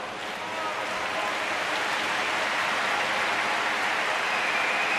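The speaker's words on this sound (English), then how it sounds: "the applause you're hearing is not for the player down, it's for the crew that's coming in to help" Arena crowd applauding as a medical crew with a stretcher comes onto the ice for a downed player at a Canada vs China para ice hockey semi-final; a steady, dense wash of clapping fills the whole stretch at close, even loudness.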